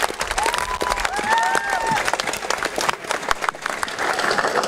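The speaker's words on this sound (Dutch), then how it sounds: "Ik wil graag een ongelooflijk applaus voor iedereen die deze straat van deze zomer heeft mogelijk gemaakt." A crowd at the festive opening of the Rijnstraat street in Woerden breaks into loud applause and cheering, dense clapping throughout with whistles and shouts rising over it, heard from amid the audience.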